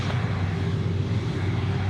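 An AirAsia airliner taxiing at Sydney Airport, a steady loud engine rumble and whine that stays constant throughout with no breaks.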